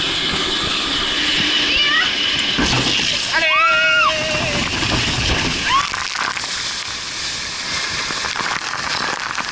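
Water splashes heavily on a Gardaland amusement park water ride, a rushing slosh and spray that swells midway, while riders shout and squeal loudly over it.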